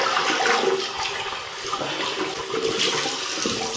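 Tap water runs steadily into a bathroom sink to rinse off a Merkur Futur safety razor, a continuous close splashing rush with no voices.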